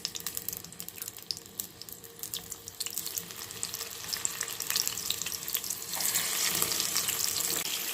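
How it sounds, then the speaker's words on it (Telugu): Chicken pieces drop into hot oil in a kadai and fry with a steady hiss that swells noticeably louder and brighter toward the end, with no voices. "ఆయిల్ వేడయ్యాక చికెన్ పీసెస్ వేయాలి."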